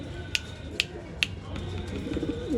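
A female old-line pigeon kept for sale in Bangalore gives a soft, low coo near the end, following three sharp clicks, amid faint background noise.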